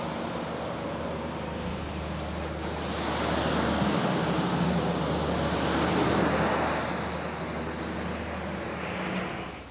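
Concrete mixer drum spinning and churning a batch of concrete with set-retardant admixture, a steady loud rumbling wash that swells midway and holds without talk.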